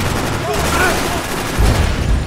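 Blind gunfire in the Max Payne 3 video game, a dense burst of shots and booming impacts packed into about two seconds, loud and close, with a heavier thump near the end and voices mixed in.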